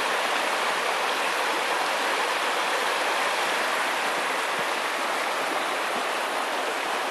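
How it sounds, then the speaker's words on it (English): Two mountain creeks meet at a snowy winter fork, swollen with snowmelt and spring water, giving a steady, full rushing and splashing roar that stays constant and close throughout, with no voices. "Now here's where these two creeks come together."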